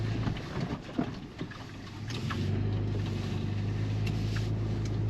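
Stock Toyota FJ Cruiser in four-wheel drive, second gear, a steady low engine and drivetrain rumble that swells and settles into a continuous drone, with some cabin rattles early on.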